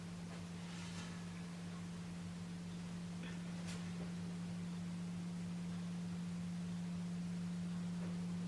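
A Huffer-type thermoacoustic tube engine, with steel wool heated at one end, gives off a steady, unbroken low hum over a constant hiss.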